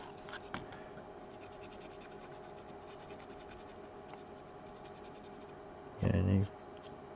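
A Mont Marte charcoal pencil drawing on paper gives a soft, steady scratching that runs quietly and continuously, with a louder, denser burst of stroking near the end.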